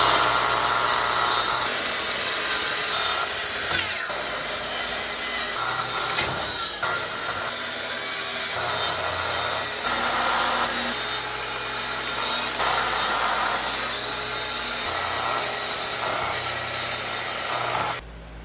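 Wood pieces for a bar cabinet being cut with a power saw, a loud, continuous rasping whine that rises and dips with the cut and breaks briefly a few times.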